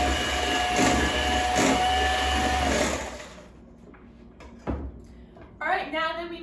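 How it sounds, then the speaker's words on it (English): An electric hand mixer whirs steadily as it beats egg yolks for a hot milk cake, a loud continuous motor drone lasting about three seconds before cutting off, followed by quieter kitchen clatter and a couple of brief knocks. "we're going to quickly mix our egg yolks using an electric mixer."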